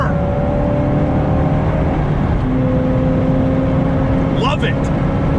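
A car engine hums steadily at close range, a low continuous drone with faint road noise and a brief higher whir near the end.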